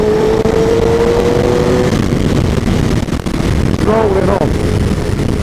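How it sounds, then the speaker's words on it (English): A Suzuki GSX-R 1000 K5 motorcycle pulls a roll-on in sixth gear, its engine drone loud and close under strong wind rush, with a rising whine near the end. "The way it rolls on, look, watch the roll on."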